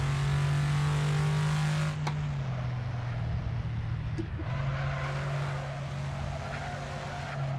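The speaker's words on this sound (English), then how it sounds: "Oh, there's a car." A Ford Mustang racing at New Jersey Motorsports Park in Assetto Corsa holds a loud steady engine drone while a second car passes with a brief tire and engine swell.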